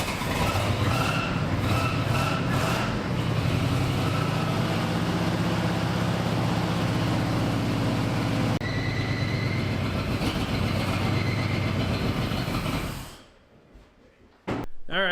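A farm truck fitted with a cheap turbo runs rough at close range, a loud, uneven engine drone with clattering and rising whine, holding steady for about twelve seconds before cutting off abruptly, followed by near silence and a faint knock.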